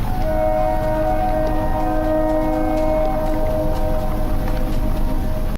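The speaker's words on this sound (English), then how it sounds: "I hear a train throughout the video" A train sounding late at night, its steady low rumble and sustained horn-like tones running continuously and loud throughout, with no voices.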